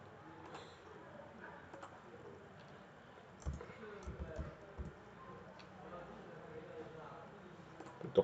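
Computer keyboard typing in short bursts of quiet clicks, soft and close, with a faint background hum and a few louder taps near the end.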